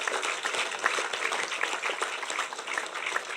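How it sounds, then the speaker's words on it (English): Residents at a housing scheme gathering applauding, a moderate, steady patter of many hands clapping at some distance. "I think you need a round of applause."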